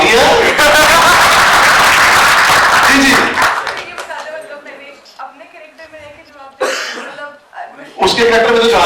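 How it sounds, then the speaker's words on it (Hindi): Participants at a theater workshop at Madina University, Faisalabad applaud in a loud, dense burst that fades after about three seconds. A voice then speaks, with brief scattered claps and light laughter breaking in later. "तालियां"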